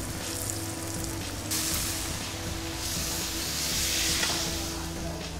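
Chicken pieces sealed with a splash of yogurt sizzle and fry loudly in a pan as they brown for tikka masala, a steady close hiss with faint stirring.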